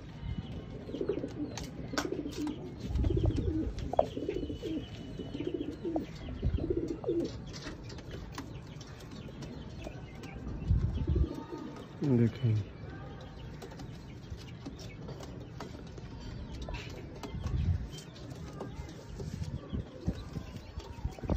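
Low, soft coos of shy Sialkoti pigeons repeat close by in several bursts, with rustling and a brief spoken word mixed in.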